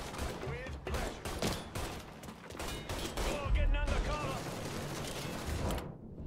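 Gunfire from the video game Mafia 3 crackles in steady volleys of shots, mixed with game voices and other sounds throughout.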